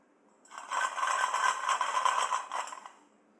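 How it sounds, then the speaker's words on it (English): Ice cubes rattle and scrape inside a water bottle in one continuous shake lasting about two seconds, fairly close and quiet, with no talking over it. "Oh, those are ice cubes."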